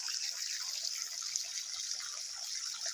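Water running steadily through a grape farm in the morning, a continuous close hiss and trickle of flowing water with no speech over it.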